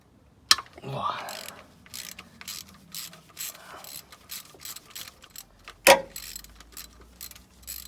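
A socket ratchet working on rusted bolts during a track car engine teardown, quiet clicking pawl strokes in short runs with a few sharper metallic knocks, close and fairly faint.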